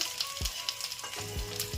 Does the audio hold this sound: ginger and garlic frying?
yes